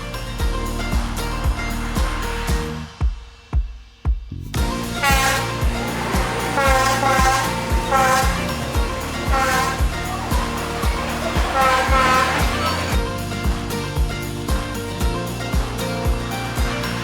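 A train rumbles right past cafes on Hanoi's narrow train street, a dense rhythmic clatter of wheels over rail joints building loud and close after a brief lull, with a horn-like tonal drone riding over the passing cars.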